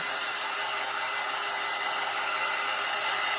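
A hair dryer blows steadily at close range while drying white craft pieces for an embroidery hoop Valentine hanger, a constant loud whooshing hum with no pauses.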